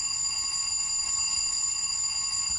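Small alarm bell from a LokSound v5 sound decoder in a Rapido Metra F40PHM model locomotive, a continuous bright electronic ringing held at an even level throughout, with no voices.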